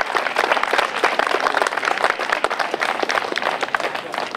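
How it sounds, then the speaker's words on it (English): Steady audience applause for a troupe of dancers at an Armenian Genocide commemoration program, with distinct, crisp individual claps in a continuous patter at close to moderate distance. "Another round of applause."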